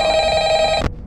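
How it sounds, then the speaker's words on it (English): A loud, close electronic telephone ring from the video game Ultimate Custom Night sounds as one steady sustained tone before cutting off sharply. "I don't want to listen to your phone call."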